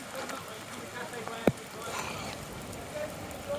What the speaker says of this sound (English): It's absolutely bucketing it down.